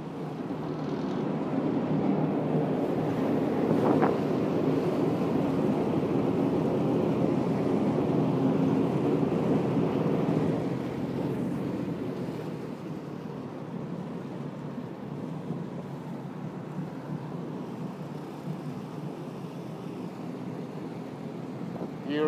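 Ferry cruising along the Brisbane River, with a steady broadband rumble of engine, water and wind that is loudest early and settles slightly quieter; faint voices may sit beneath the continuous noise.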